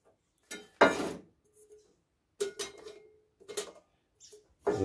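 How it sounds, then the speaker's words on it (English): Trangia 25 aluminium saucepans knock and clink as they are nested together inside the stove set, in a few separate close metallic bursts with quiet gaps between them. "Saucepans go in there."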